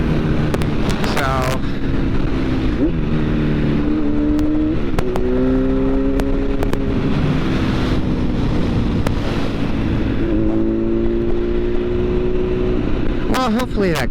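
Motorcycle engine holding a steady drone through a second-gear wheelie, pitch rising and settling in smooth sweeps, with strong wind buffeting the microphone throughout.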